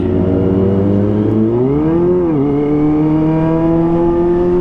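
A Kawasaki ZX25R motorcycle engine climbs in pitch as it accelerates to pass a car, a loud, steady close-up drone that rises, dips and settles into a higher sustained tone.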